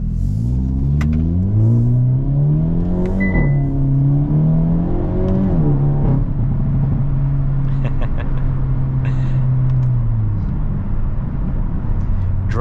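A 2023 Hyundai Elantra N in N mode drives along with a loud, deep engine drone that rises and falls through several gear changes, heard from inside the cabin.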